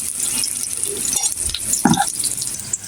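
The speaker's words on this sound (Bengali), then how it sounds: "পেঁয়াজ মরিচ কুচি করে রেখেছিলাম, এটা দিয়ে দিলাম। এখন এটা ভাজা হতে থাকবে।" Chopped onion and green chili dropped into hot oil for bitter gourd fry, giving a steady close sizzle and crackle with a brief louder burst of spattering midway.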